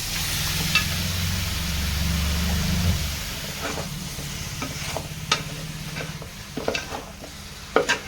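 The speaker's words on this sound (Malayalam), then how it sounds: "ചിക്കൻ ചേർത്ത് കൊടുക്കുവാണ്" Chicken pieces sizzle in hot oil for a village-style biryani, with a steady frying hiss up close and then a run of scraping, clacking stirs from a spatula against the pan.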